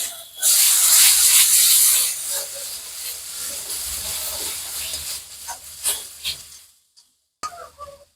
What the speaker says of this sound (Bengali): পেঁয়াজটা ভাজা হয়ে গেছে এবার এর মধ্যে আদা রসুনের পেস্ট দেব